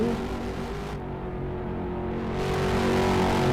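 ROX Mod race cars roaring around a short oval track at Richmond, a dense sustained engine drone that swells slightly as the pack passes, loud and continuous.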